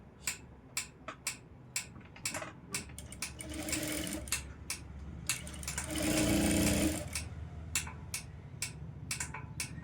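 A sewing machine stitches a high-neck blouse in close, running bursts, short rapid clicks between two longer, louder spells of continuous whirring.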